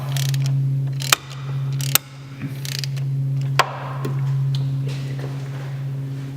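Ratchet wrench working an E10 bolt on the injector bracket of a BMW N54 engine, a few sharp metallic clicks and cracks over a constant loud hum.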